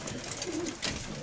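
A pigeon coos softly in a short, low burst over steady background noise, fairly close.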